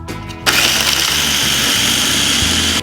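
A food processor whirs loudly and steadily as it minces lemongrass and spices for green curry soup, starting abruptly after a brief quieter hum and running continuously with a pulsing, choppy low rumble until it cuts off.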